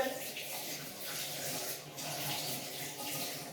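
Onions are rinsed under a kitchen tap while making cheese soup, giving a soft, steady stream of running water that flows without a break at a fairly low level.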